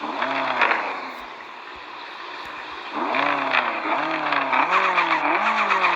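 BMW M5 F10 engine revving up and down in repeated loud, close surges after a short idle lull, with no talk.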